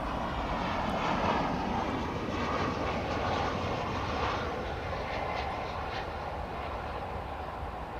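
A UPS cargo jet at DFW Airport roars steadily at a moderate distance, a broad continuous engine rumble with a hissing top that holds even for the whole stretch.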